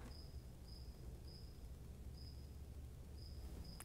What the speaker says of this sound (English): Do you hear that cricket?